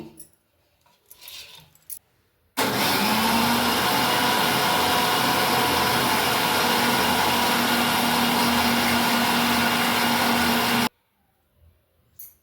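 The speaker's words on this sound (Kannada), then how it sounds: "ಇವಾಗ ಇದನ್ನು ಮಿಕ್ಸಿ ಮಾಡ್ಕೊಂಡು ಬರ್ತೀನಿ" A mixer grinder starts abruptly and runs at a loud, steady whine blending coconut for about eight seconds, then cuts off, with faint handling sounds before and after.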